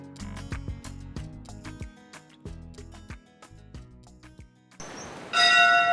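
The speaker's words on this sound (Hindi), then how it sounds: "मंदिर की घंटियों की मधुर ध्वनि" Temple bells at a hilltop shrine in Himachal Pradesh are struck over and over in an uneven rhythm, their bright ringing tones overlapping and fading, before a sudden burst of noise at the end.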